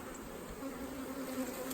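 Honeybees buzzing in a steady, close drone, with a few individual insects' tones rising and falling over the hum.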